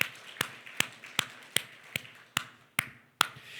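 A church congregation at a Korean festival worship service claps in unison, sharp evenly spaced claps about every 0.4 seconds, fairly quiet and with no talk over them.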